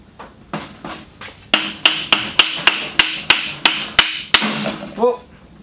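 A rapid series of about a dozen sharp hammer blows on metal while servicing a 4x4 winch, evenly spaced and ringing, close by, ending with a brief scraping clatter.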